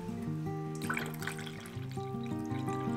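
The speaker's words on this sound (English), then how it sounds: "So I put in 1/2 liter of water and it's already going down." Water poured from a container into dry potting soil in a pepper plant pot, a soft steady trickle and gurgle close by with no talking.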